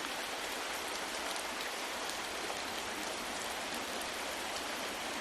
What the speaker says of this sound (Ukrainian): це пісня осіннього дощика